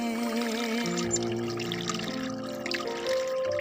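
Cool spring water pours steadily from a village water source in the mountains, a continuous close trickle and splash that runs unbroken throughout.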